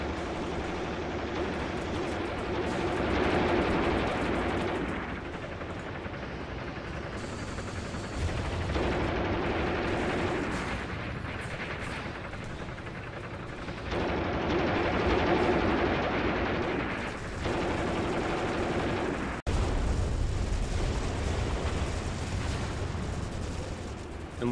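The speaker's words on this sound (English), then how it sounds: "They're under extremely heavy fire by everything" Sustained heavy gunfire and artillery explosions in the Graviteam Tactics war game set on the 1943 Donbass front, a dense continuous barrage of shots and blasts swelling and easing in waves, loud throughout with no talk.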